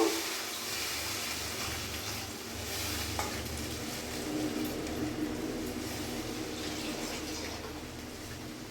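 Water is poured into a hot cooking pot of dalia khichuri after the spices are well fried. A steady, loud hiss and sizzle continues throughout with no speech.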